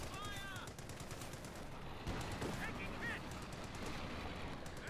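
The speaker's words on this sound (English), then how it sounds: "models are dropping as the assault rifles here, or assault gewehrs, STG Sturmgewehrs, are firing" Rapid automatic gunfire from German StG 44 Sturmgewehr assault rifles in the Company of Heroes 2 strategy game, dense overlapping bursts over a constant battlefield din, with scattered shots and a voice talking throughout.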